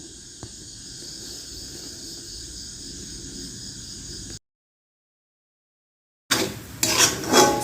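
Grated coconut and jaggery stirred in a pan for coconut laddoos, a steady close scraping hiss for several seconds, then a sudden gap of silence before louder, busier scraping and clatter resumes.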